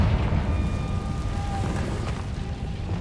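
Confringo fire spell blasting in Hogwarts Legacy, a dense, continuous rumbling boom with crackling texture that stays loud and steady for about three seconds, with no voices.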